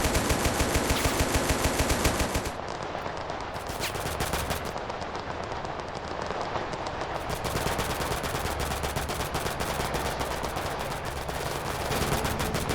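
Sustained automatic gunfire from a turret machine gun in the video game Total Conflict: Resistance, dense and continuous throughout, loud and close, with no talking over it.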